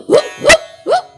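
A human voice imitates a dog barking, giving three short, loud woof-like yelps in quick succession at close range, with no other sound between them.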